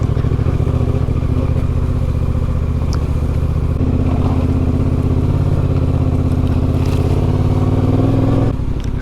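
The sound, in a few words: fully loaded adventure motorcycle riding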